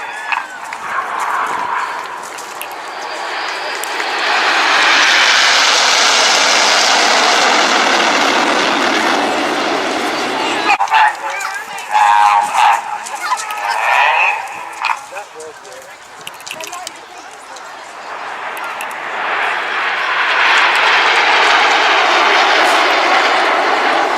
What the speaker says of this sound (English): This is Spitfire.